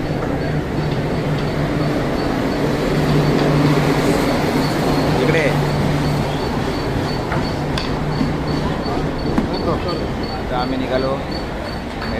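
Mumbai metro train rolling into Ghatkopar station, with a loud, steady rumble and hum from inside the carriage throughout, while people talk over it.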